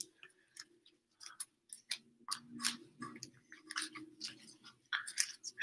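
A cat chews food noisily close by, with wet, irregular crunching and smacking bites in uneven bursts, no talking.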